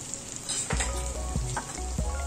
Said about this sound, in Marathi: गॅस कमी करून तळा